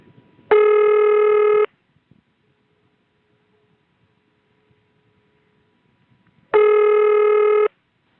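A 1977 cleaned-up ring signal from a Wilson, NC telephone exchange ringing machine: two loud, steady buzzy rings about a second long, separated by roughly five seconds of near silence.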